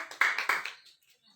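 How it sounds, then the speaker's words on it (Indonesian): Students in an elementary athletics class of walking, running and jumping clap briefly for a classmate, a short burst of a few sharp claps that quickly fade into quiet. "Tepuk tangan buat Made."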